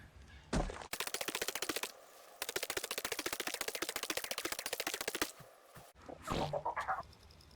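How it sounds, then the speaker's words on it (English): Rapid, steady chipping hits from gathering stone in the video game Ark, two long bursts of evenly spaced knocks with a short pause between them, followed by a few scattered sounds. "let me gather some more stone"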